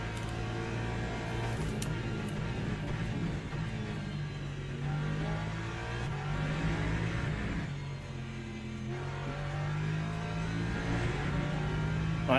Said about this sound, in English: LMP3 behind me.